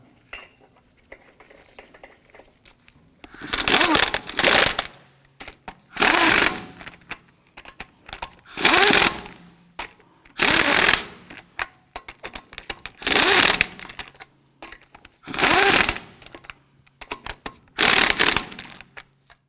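Lug nuts are tightened on a Ford F-150 wheel in a series of six loud, ratcheting bursts, each lasting about a second, with short quiet gaps between them.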